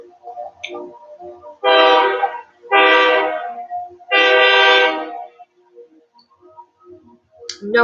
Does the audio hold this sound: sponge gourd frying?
no